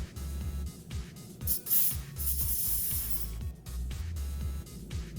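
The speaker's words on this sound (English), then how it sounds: "refrigerant, you just need to press this valve a little bit." Refrigerant escapes from an air conditioner valve as a sharp spray hiss in short, repeated bursts, close and fairly loud, with a low rumble underneath.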